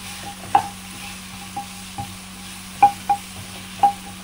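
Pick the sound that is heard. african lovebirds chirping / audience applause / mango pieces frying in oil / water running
mango pieces frying in oil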